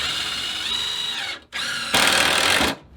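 Cordless power drill driving screws into a wooden picnic table, loud and close: a long whining run that stops abruptly, then another burst ramping higher before cutting off.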